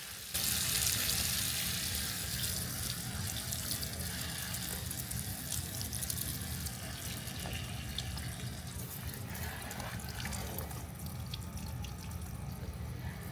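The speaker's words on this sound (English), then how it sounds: "I'm just going to water that in." A hose waters a container plant in a June garden, a steady close hiss of spraying and splashing water that starts abruptly and runs on without talk.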